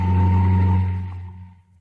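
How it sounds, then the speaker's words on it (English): A jeep sound effect pulls up with a loud, steady engine drone and a whining tone that slowly fades out over nearly two seconds, with no talking. "That sound was supposed to be a jeep pulling up"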